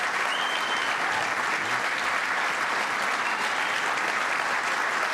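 Audience applause at the signing of the health care bill into law, a sustained, dense wash of clapping from a large crowd, steady and loud throughout.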